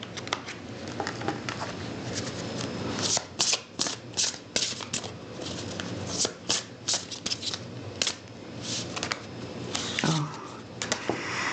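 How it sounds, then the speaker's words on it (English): A deck of cards being shuffled, quick riffling bursts and soft pattering repeated several times, close by, with faint talk in the background. "I'll give it one more shuffle."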